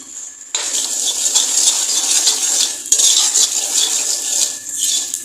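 Metal spoon stirring dry spices in a pot for an ambal pumpkin dish, repeated close scraping and clinking strokes against the pot with brief pauses.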